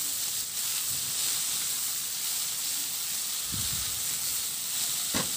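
Tomatoes sautéing in a pan with chicken give a steady, soft hiss of sizzling, with a couple of brief scraping stirs near the end.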